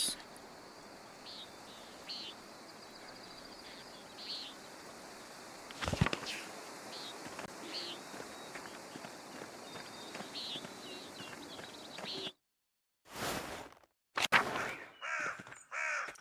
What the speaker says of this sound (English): it's just listening to the birds and everything